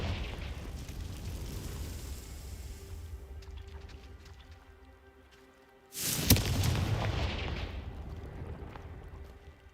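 A fiery Confringo spell blast from Hogwarts Legacy booms out suddenly after a low rumbling stretch, then a loud roaring burst decays over several seconds with no one talking.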